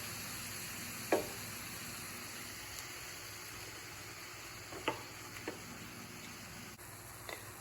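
Ground beef browning in a pan, a quiet, steady sizzle with a few soft scraping stirs now and then.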